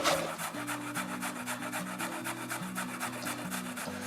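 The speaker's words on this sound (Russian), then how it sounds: "Я воспользуюсь теркой и натру морковку на терке." A carrot rubbed against a hand grater in steady, rhythmic strokes, each pass a close scraping rasp repeating about four or five times a second, with no one speaking.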